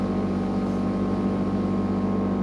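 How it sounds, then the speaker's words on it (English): CFMOTO CFORCE Touring ATV engine cruising steadily at 40 mph around 6,000 RPM, a loud continuous drone with a constant pitch and no change in pace. "we're going to cruise right here at 40 miles an hour"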